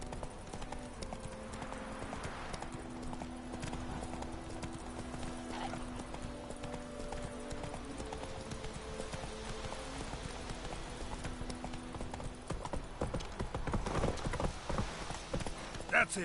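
Roach, Geralt's horse in The Witcher 3: Wild Hunt, trots with steady clip-clop hoofbeats and an occasional whinny. Game music and ambience play underneath, and voices talk over the hooves.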